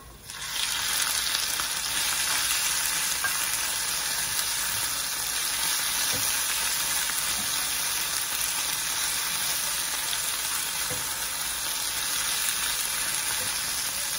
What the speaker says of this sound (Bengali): ভালো মতো মিক্স করতে হবে, নেড়ে চেড়ে ভাজা ভাজা করতে হবে